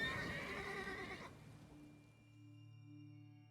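A game horse in Elder Scrolls Online gives one loud whinny lasting about a second, then a quieter low tonal hum carries on with no talking.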